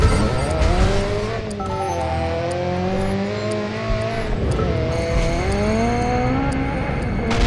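Engine and tire noise from a car in Driver San Francisco, a steady revving drone with shifting pitch as the car accelerates, punctuated by squealing tires through turns, loud and continuous throughout.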